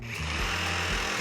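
A Kreg pocket hole joiner runs with a steady, loud mechanical whir and drilling buzz, continuous and close, with slight rhythmic pulsing in its low motor hum.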